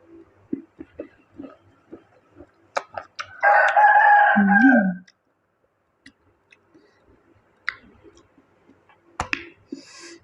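A rooster crows once loudly and close by in a rural northern Thai home kitchen, its long call rising over sparse clicks, clucks and small tapping sounds before and after.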